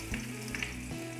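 Garlic sizzling in hot oil in a pan as the first aromatic goes in, a steady close fry with a few brief spits and a soft stir partway through, no voices.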